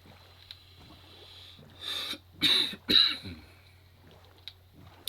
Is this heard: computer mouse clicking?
no